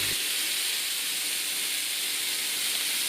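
Pork souvlaki chunks sizzle on a cast iron griddle pan spanning two stove rings at medium-low heat, a steady, even hiss running unbroken and fairly close with no voices.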